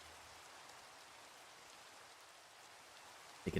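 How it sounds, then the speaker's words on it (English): Steady Minecraft rainfall, a soft continuous hiss of drops that stays faint and even throughout, with a brief louder bump right at the end. "You guys enjoying this rainy Saturday on Minecraft?"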